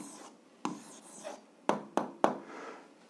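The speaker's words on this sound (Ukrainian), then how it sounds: "Записуємо відповідь. Пишемо відповідь." An answer to an algebra exercise is written by hand, with short scratchy pen strokes and a few sharper taps spaced irregularly, faint and close with no talk.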